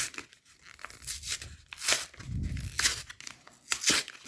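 A trading card booster pack is torn open close by, with repeated sharp rips and crinkling foil bursts in irregular spurts over a quiet room.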